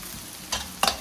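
Shallots and onions sautéing in a pan, a low steady sizzle with two brief louder scraping stirs near the end, no voices.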